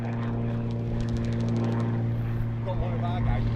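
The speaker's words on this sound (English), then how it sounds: "Fucking bought a drone, mate" Steady droning hum of a drone flying overhead during an outdoor airsoft game, with strong tonal buzzing throughout, plus a burst of rapid clicking near the start and people talking over it.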